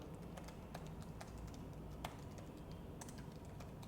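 Quiet, steady typing of VBA code on a computer keyboard, with rapid irregular clicks and a few sharper keystrokes throughout, close up and without speech.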